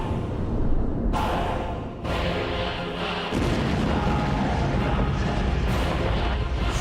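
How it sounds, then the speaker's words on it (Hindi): A massive, sustained explosive roar on the bridge linking Russia to Crimea, with heavy rumbling and crackling bursts, loud and continuous throughout, with no talking. "रूस को क्राइमिया से जोड़ने वाले पुल पर बहुत बड़ा धमाका होता है"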